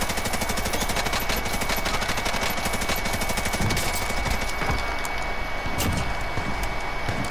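Bruen Mk9 light machine gun in Warzone on Rebirth Island, firing long rapid bursts of shots, loud and close, with dense overlapping gunfire throughout.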